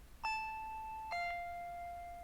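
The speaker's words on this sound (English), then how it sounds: "I heard the doorbell ringing." A two-tone doorbell chimes twice in a quiet room in the Higurashi visual novel game, each bright tone ringing out and fading, with no talking.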